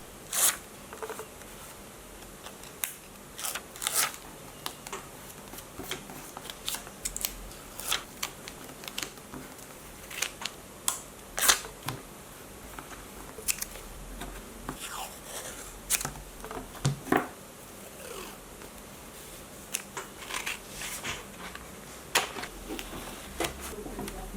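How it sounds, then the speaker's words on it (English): Close, quiet sticker handling for a bullet journal, with crisp peeling rips, paper crinkles and light taps arriving in irregular bursts over a low hush. "Before we continue, another sticker ASMR intermission."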